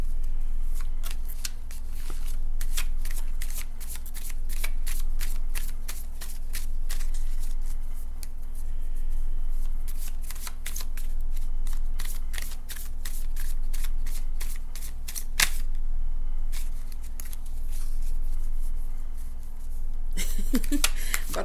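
Cards shuffled over and over in quick riffling bursts, with a brief pause between rounds and a louder flurry at the end.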